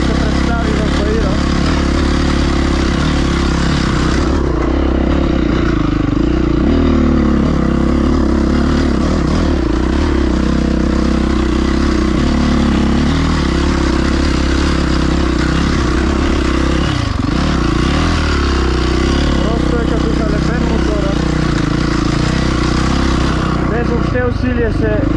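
An off-road motorcycle ridden along a trail on light throttle gives a continuous close engine drone with rattling and clattering from the bike over rough ground, while a rider talks over it.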